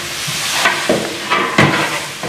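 A large pot of chicken biryani, part of a 75 kg catering batch in Chennai, is mixed with spices over high heat: loud close sizzling with several scraping stirring strokes in steady rhythm, no talk.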